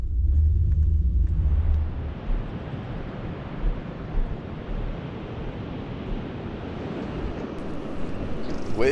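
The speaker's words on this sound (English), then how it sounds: "Waves appear to be breaking pretty far out right now" Ocean waves break far out from a beach shore, a broad, steady roar of surf with soft swells, preceded by a brief low rumble, likely a vehicle, and some wind buffeting the microphone.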